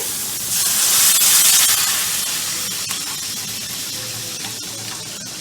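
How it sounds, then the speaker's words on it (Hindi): Roughly 2 to 3 litres of chicken stock (yakhni) poured into a hot cooking pot for Thai tom yum soup, a loud rushing hiss that swells early and then settles into a steady sizzle. "तकरीबन 2 से 3 लीटर ये यखनी है, वो इसमें ऐड कर दी हमने"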